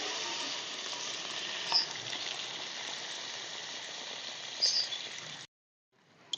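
Fish curry with cauliflower and potato in a pan after water is added, giving a steady bubbling hiss with a couple of brief clinks before it abruptly cuts to near silence.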